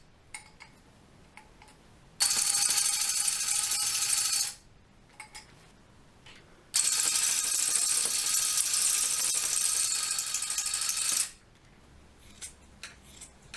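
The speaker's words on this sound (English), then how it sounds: "you're drawing with the tufting gun on a piece of stretched fabric" A tufting gun punches wool yarn into stretched fabric in two long bursts, a loud, rapid, buzzing rattle that runs for a few seconds each time, separated by quiet pauses with faint clicks.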